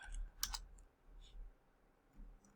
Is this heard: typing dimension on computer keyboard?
yes